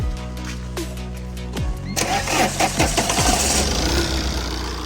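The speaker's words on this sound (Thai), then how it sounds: "ติดเครื่องฟังดู" A Tata car engine cranks and fires up after its swirl sensor plug is reseated, a few low starter thumps followed by the engine catching into a steady, rough-edged idle close by.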